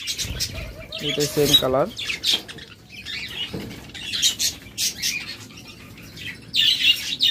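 Caged budgerigars and doves offered for sale chirp and tweet in quick, scattered bursts, close by, with wings fluttering and a voice speaking briefly amid the birds.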